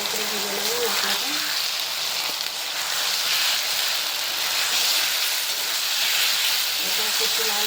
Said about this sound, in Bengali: এবার আদা রসুন পেস্ট করেছি, এটা দিয়ে একটা লাল লাল করে ভেজে নেবো মশলাটা